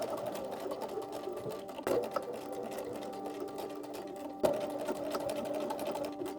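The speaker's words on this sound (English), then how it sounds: "take this to the sewing machine and sew all the way around" A sewing machine runs steadily as it stitches a sleeve seam, a continuous close mechanical whir with two brief louder knocks partway through and no talking.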